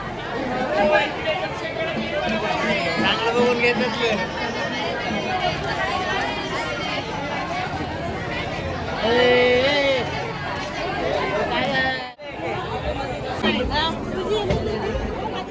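Evening crowd chatter fills Jejuri temple: a thick, constant hubbub of many overlapping voices nearby, with people talking throughout.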